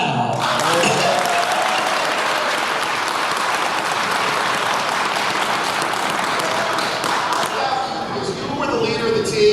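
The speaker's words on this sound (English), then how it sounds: "So I'm commanding you to all clap now." Audience applause at a Power Rangers Lightspeed Rescue 25th anniversary fan panel: loud, dense clapping from a large crowd sustained for nearly ten seconds, with scattered thumps and cheers, fading slightly near the end.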